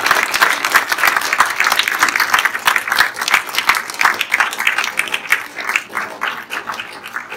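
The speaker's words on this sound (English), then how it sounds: "Please, let's give her another round of applause." Sustained applause from an audience at a museum artist talk, dense and steady clapping for several seconds with no voices rising above it.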